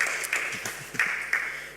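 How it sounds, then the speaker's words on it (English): Brief round of audience applause at a conference panel, a few scattered claps at moderate distance over a light background hiss, fading quickly. "Round of applause."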